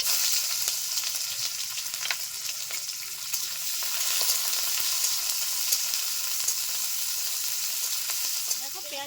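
Chopped onion sizzles in hot oil with dried red chilli and nigella seeds, giving a steady, bright crackle throughout with occasional faint stirring clicks and no voices.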